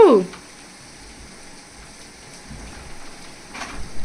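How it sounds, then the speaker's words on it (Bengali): Heavy rain pours down steadily, making a constant, even hiss of drops on surfaces from start to finish, with a brief higher-pitched call at the very beginning. "জোর বৃষ্টি হচ্ছে,"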